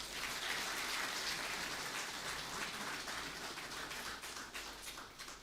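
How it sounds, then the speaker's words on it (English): Applause for the chief host at an army war college alumni inauguration ceremony, a steady dense patter of many hands from a large audience, fairly faint and distant, thinning slightly toward the end. "I believe that the chief host deserves a better round of applause."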